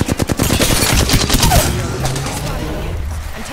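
Rapid bursts of video game gunfire open the moment, a quick string of loud shots fading into game noise and a faint voice.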